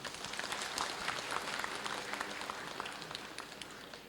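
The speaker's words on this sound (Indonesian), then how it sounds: "Boleh tepuk tangan." Audience at a graduation ceremony for an Islamic college in Jambi claps in sustained, moderately distant applause, with individual hand claps standing out over a steady rattling wash.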